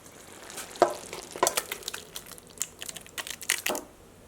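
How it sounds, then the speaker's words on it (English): Cooked pumpkin curry emptied from a big pot into another pot, wet slopping and scraping with repeated spoon knocks against metal, close and fairly soft, with no talk. "I'm going to go ahead and empty this pumpkin into another pot"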